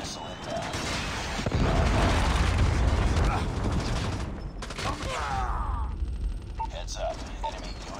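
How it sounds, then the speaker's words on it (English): Predator missile strike explosions in Call of Duty Mobile, a heavy booming rumble swelling loud for a few seconds amid mechanical clatter and game noise, with a voice talking over it. "Friendly Predator missile inbound."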